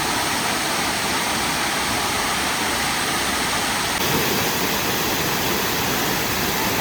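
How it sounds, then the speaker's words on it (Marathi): A famous waterfall at Tamhini Ghat pours with heavy force, a dense, constant roar filling the air at close range with no pauses or other sounds rising above it. "आणि पोचलो आम्ही फेमस धबधब्यावरती"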